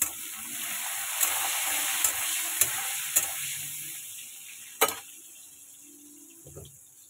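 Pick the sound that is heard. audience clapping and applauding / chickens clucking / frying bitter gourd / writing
frying bitter gourd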